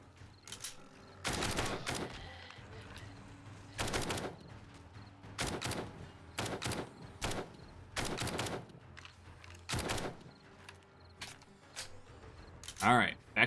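Rifle gunfire in a zombie horde-base survival video game, with about eight loud, sharp shots spaced irregularly across the stretch and a mechanical clatter near the end.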